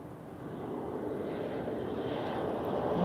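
A TAP Air Portugal Embraer airliner at Lisbon Airport gives a steady, loud jet engine roar, with a broad rushing noise that holds throughout and swells slightly toward the end.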